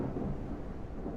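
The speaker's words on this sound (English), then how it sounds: "Of course, it's gonna thunderstorm again." Thunderstorm in the survival game Mist Survival: a low, rolling rumble of thunder over steady rain, fairly loud and continuous for a brief moment with no talking.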